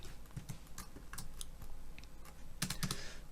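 Rapid typing on a computer keyboard at a desk, a steady run of close, crisp key clicks with a few louder clusters, heard alone without talk.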